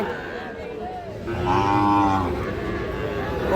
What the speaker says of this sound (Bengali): অসাধারণ বেশ কিছু শাহিওয়াল জাতের ষাঁড় বাছুর গরু